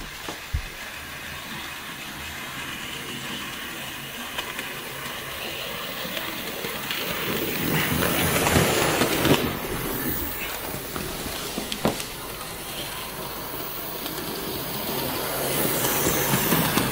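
A Hornby BR Standard Class 4MT model steam locomotive running past on track, a continuous rumbling whir that swells as it passes close by, with a few faint clicks and no talking.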